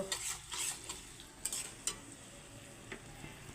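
Curd going into a pan for doi potol, stirred over high flame, with faint sizzling and a few scraping stirs that are louder early on and then fade toward quiet.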